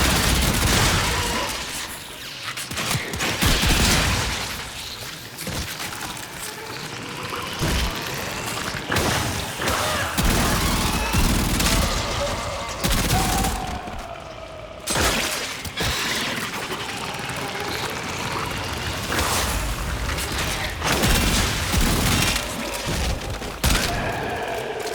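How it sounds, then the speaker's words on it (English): Weapon fire in the video game Warframe destroying an infested hive, dense bursts of rapid gunshots with shattering impacts and booms, loud and continuous over a game soundscape. "Hive located. Destroy it with weapon fire."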